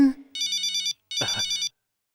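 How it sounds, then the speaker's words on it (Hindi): A telephone rings in two bursts of electronic trilling with a short gap between them, clear and close, after a brief voice at the start. "फोन।"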